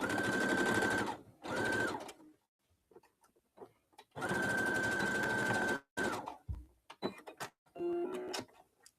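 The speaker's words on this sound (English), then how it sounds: "do a flat stitch, back stitch on either end" Sewing machine stitching the lined layers of a zipper pencil pouch, two loud close bursts of rapid steady whirring stitching separated by pauses, with short back-and-forth stitching and handling clicks at the end.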